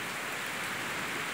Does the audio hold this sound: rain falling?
yes